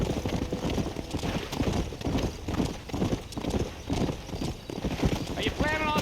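Horse hooves gallop in a steady clip-clop rhythm in the Western video game Red Dead Redemption, close and continuous, with a voice talking over them and a brief whinny-like tone near the end.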